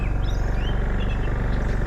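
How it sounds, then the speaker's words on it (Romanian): Small birds chirp in a forest with a zipline and woodland trails, their thin, faint calls scattered over a steady wash of outdoor background noise. "Plin de păsărele"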